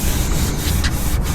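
Truck headlight lenses being sanded by hand, a steady continuous abrasive rubbing that stays close and fairly loud with a few brief stroke accents, no voices.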